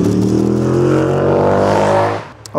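A race car roars past at a motor racing track, loud and close, its engine pitch sweeping down as it recedes and then dropping away sharply.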